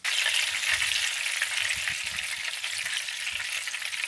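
Çibörek pastry frying in hot oil, giving a steady, close, hissing sizzle that holds throughout with little variation and no talk.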